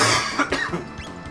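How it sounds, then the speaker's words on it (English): A person coughs in a short fit of several rough bursts during a Chrono Trigger gaming session, close and fairly loud, with no talking. "Cough, cough, cough, cough."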